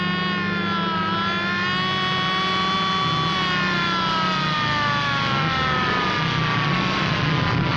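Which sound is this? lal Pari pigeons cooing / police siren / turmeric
police siren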